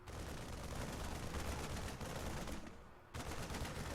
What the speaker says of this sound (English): 3 Marines shooting at this is a giveaway